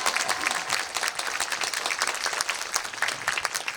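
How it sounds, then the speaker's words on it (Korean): Audience applause at a film screening Q&A event in a theater, a brisk, even patter of many hands clapping at moderate distance with no talking. "조금 더 큰 박수로 한번 기분을 나눠주시기 바랍니다"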